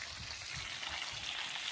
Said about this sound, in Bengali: ইলিশ মাছ গুলো দেখো, মাছ ভাজা চলছে।